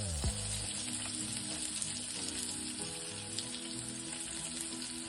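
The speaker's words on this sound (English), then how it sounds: "Next to the heated oil, you're going to add your onions." Onions sizzle in heated olive oil in a pan, a loud, continuous close-up crackle with scattered pops throughout.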